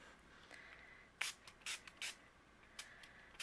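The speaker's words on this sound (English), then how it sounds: "And we're going to spray" Ranger Perfect Pearls Mist sprayed onto a stenciled card background, several short hissing pumps of the spray bottle in an irregular sequence, close and fairly soft in a quiet room.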